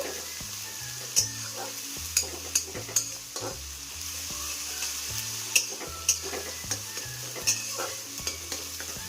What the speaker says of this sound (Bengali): এটাও আমি একটু ভাজা ভাজা করে নেব।